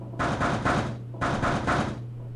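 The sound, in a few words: knocking on a door, sound effect from the video game 999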